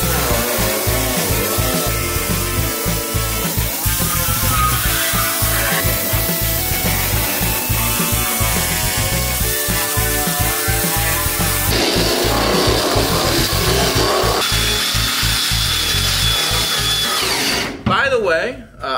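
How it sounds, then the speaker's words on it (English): A power tool scuffs and scrapes bare metal on a car body being prepared for paint, a steady loud grinding with rhythmic pulsing that runs almost without a break before cutting off near the end. "we're also going to scuff everything that is bare metal"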